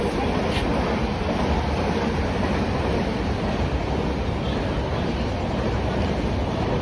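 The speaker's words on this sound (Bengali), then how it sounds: "দুই পাশে ট্রেন যাচ্ছে" A steady, loud rumbling roar of trains running past on both sides of a platform at Mambalam station, T. Nagar, continuous broadband noise with no breaks, close by.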